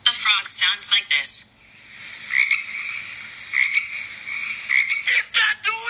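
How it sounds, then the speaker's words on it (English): A frog croaks in a loud, trilling chirp that repeats and rises and falls for several seconds, with brief voice-like bursts at the start and end. "A frog sounds like this."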